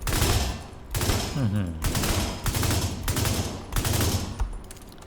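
Assault rifle fire in The Division 2, with a police M4 in the mix: several loud bursts of automatic fire at close range, separated by brief gaps, with no voices.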